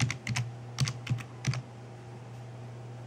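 A few quick bursts of keystrokes on a computer keyboard while entering a Windows boot configuration command, close and clear, followed by a quiet pause with a steady low hum underneath.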